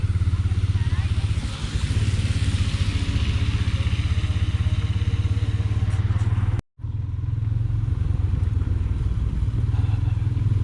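A motorcycle fitted with snow chains pulls away on an icy, snow-covered mountain road in winter, its steady engine drone loud and close throughout, with a brief dropout midway.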